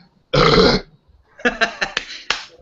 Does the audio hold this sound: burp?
yes